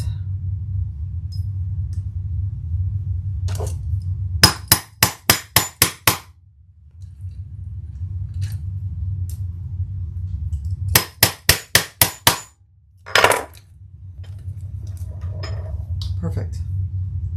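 Two quick bursts of sharp metallic hammer strikes on a hand setting tool fixing hardware to a nylon webbing strap, about six blows each, ringing over a low steady hum, followed by a single heavier knock.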